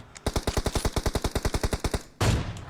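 Automatic gunfire aimed at a mammoth in PUBG Mobile: a loud, rapid burst of about eighteen evenly spaced shots, followed by a short rush of noise after a brief gap.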